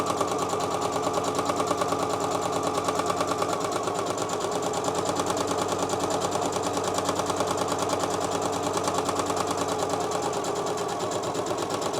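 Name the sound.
sewing machine chain piecing quilt fabric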